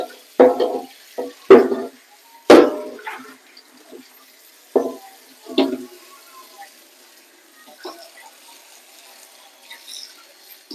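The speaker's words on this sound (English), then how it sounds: "So I'm gonna give him one more rinse." Tap water runs in short, uneven bursts while a whole salmon is rinsed, splashing in several loud spurts over the first six seconds before fading to faint, sporadic trickles.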